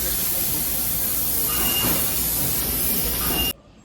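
Gas cutting torch working in a warehouse: a steady, loud, broad roaring hiss that holds evenly for several seconds, then cuts off abruptly near the end.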